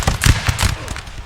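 A ragged crackle of musket shots bursts out in Napoleon Total War, several sharp cracks fired in quick uneven succession over about a second, fairly loud and close, then fading out with no speech.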